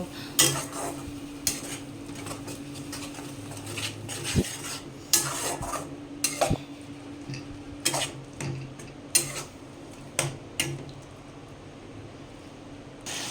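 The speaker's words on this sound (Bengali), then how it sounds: "মশলাটা ভালো করে ফ্রাই করে নেব।" A spoon scrapes and clinks against a pan as spice paste with turmeric and a splash of water is stirred and fried for chicken jhol, irregular metallic taps and scrapes over a faint low sizzle.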